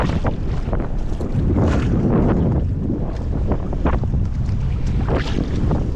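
Strong north wind roars steadily against the microphone, a constant heavy buffeting with water noise beneath, as if out on open water.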